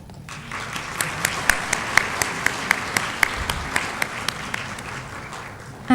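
An audience applauds at a university conferment ceremony, a roomful of steady clapping with some louder individual claps standing out, continuing for several seconds before fading out.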